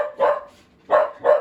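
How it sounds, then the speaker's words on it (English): A dog barks three times nearby in a kitchen, loud clear woofs with a short pause after the first, alone without any talking. "Ignore the barking dog."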